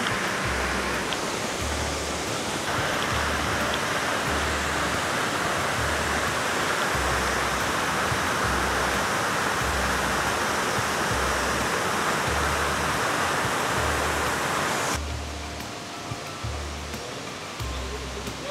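A powerful waterfall throwing heavy spray roars as a dense, steady broadband rush, loud and close, with a low rhythmic thumping underneath and a brief shift in tone near the end.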